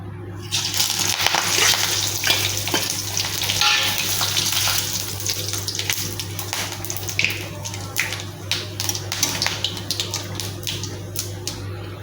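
Cumin, garam masala, bay leaf and dried chilli frying in hot mustard oil, a loud, steady sizzle with crackling spatters and occasional stirring clicks, close up and continuous throughout.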